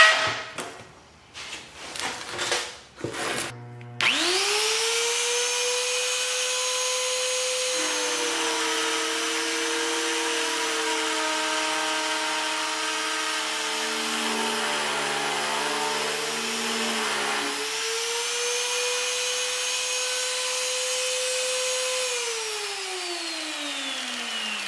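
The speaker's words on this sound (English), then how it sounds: "now that I have this drill, I can just punch through metal pretty quick" Power drill punching through metal in a shop while building a pallet fork bracket stabilizer, opening with a few clanks and then a loud, steady motor whine that dips in pitch under load before winding down.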